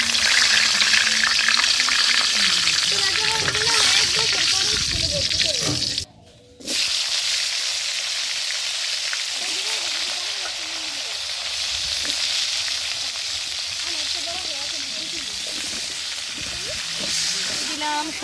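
Cumin seeds and bay leaf sizzle in hot oil, a steady, close frying hiss that continues throughout with only a brief break partway through.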